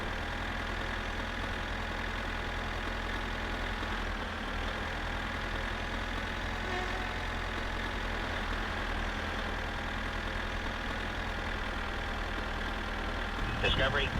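A tractor engine in the video game My Summer Car runs at a steady, even drone for the whole stretch, low and continuous with no change in pace, ending with a brief rustling noise at the close.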